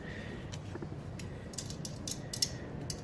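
A bolt and nylon locking nut are tightened on a roof-top tent ladder bracket, giving faint, sparse ratcheting clicks over a low background hum.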